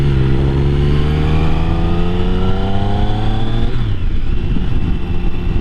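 A superbike engine revs hard and loud up close, its pitch climbing steadily before dropping sharply near the end, with no voices over it.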